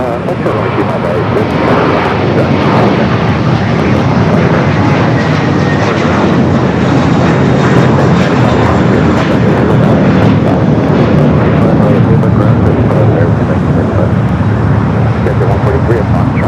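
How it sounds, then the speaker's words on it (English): A Green Air Cargo 777 freighter at LAX gives off a loud, continuous jet engine roar with broad rushing noise, holding steady throughout with faint voices under it. "we do have Green Air Cargo 777 freighter up next here on the south side"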